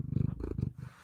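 A cat purring close up, a deep, steady rumbling purr pulsing in quick rhythmic cycles, alone without talk.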